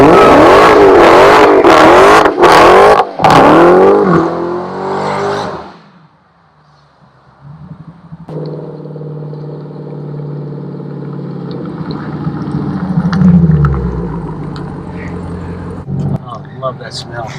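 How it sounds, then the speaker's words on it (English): A Dodge Challenger Demon engine roars hard, drops to a quiet lull, then climbs again in a rising, rumbling rev as the car holds line lock for a burnout, loud and close with no talk over it. "activate your line lock to do a good burnout, get those tires hot and sticky in the box"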